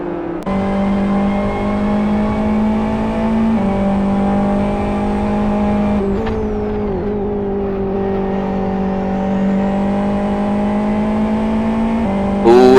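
GT race cars from a GT World Series 2014 race, including the GT2 field, drone steadily past with a loud, continuous engine tone that shifts pitch as cars close in and pull away, with a few gear changes.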